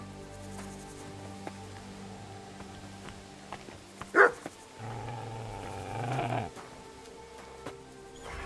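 A dog in Kingdom Come: Deliverance II lets out a single sharp bark, followed by low growling and shuffling footsteps, moderately near within quiet ambient game sound.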